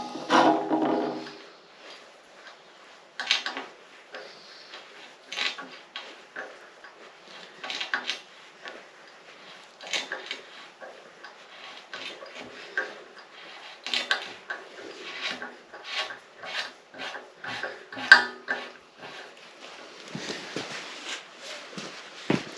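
Hand tap cutting threads through oiled metal, a run of short scraping, clicking strokes with small knocks and handling noises, close by and fairly quiet, alone without talk.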